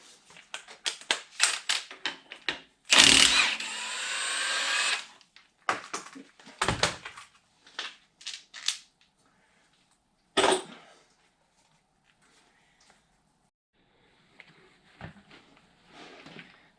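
A puller works on a Ford 302 engine in a 1964 Falcon Ranchero, pulling off the harmonic balancer: close, sharp metallic clicks, clanks and ratcheting bursts in irregular clusters, separated by quiet gaps.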